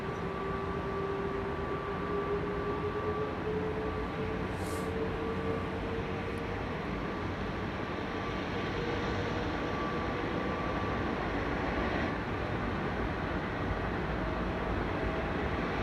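Jet aircraft engines run up at London Heathrow Airport, making a steady, loud, broad roar with a faint rising whine, heard from a distance with no talking.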